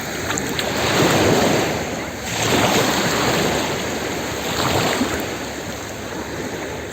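Sea waves wash and surge at a Maltese beach while someone swims, rising and falling in broad swells with wind buffeting the microphone close by.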